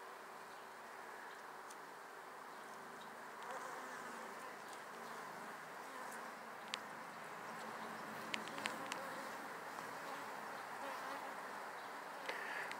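Bees buzzing around an open hive during an inspection, a continuous dense drone with occasional sharp ticks and brief closer passes, steady throughout.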